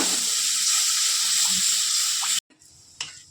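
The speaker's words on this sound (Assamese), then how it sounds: "এইপিনে অকণ উতলি আহিছে" White sauce gravy with cheese, cream and water coming to a boil in a pan, a steady close hiss and bubbling that cuts off abruptly, followed by a faint clink.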